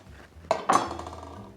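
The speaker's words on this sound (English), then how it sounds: "cut the rhubarb lengthwise in half so that each piece is about a 1/4 inch wide" A knife slices a rhubarb stalk lengthwise in half on a cutting board, making two quick close crunchy cuts with a soft knock against the board, and nobody speaks.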